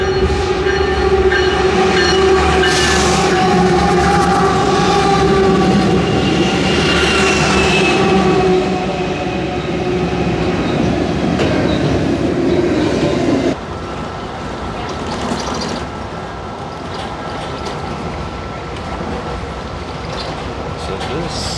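An Amtrak overnight passenger train rolls steadily along the rails with a continuous rumble, rhythmic clatter and faint whine from inside the car, loud and unbroken, shifting slightly in tone partway through.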